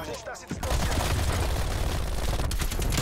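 AMP63 automatic pistol firing in CoD Cold War: a dense, continuous rapid stream of loud shots after a brief quieter start.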